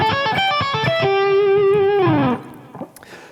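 An electric guitar with effects and distortion plays a quick Mixolydian lick in A, a run of fast picked notes ending on a long sustained, bent note that fades out, heard alone with no talking.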